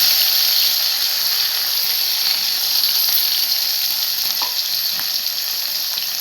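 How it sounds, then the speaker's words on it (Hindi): Garlic, green chili and ginger paste frying in hot oil in a home kitchen, a loud continuous close-up sizzle with small crackles and no talking. "मम्मी अब इसमें लहसुन मिर्चा अदरक का पेस्ट डाल रही है"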